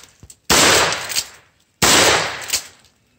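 Two loud double-barrel shotgun blasts fire about a second apart, each a sharp close boom followed by a short decaying rumble.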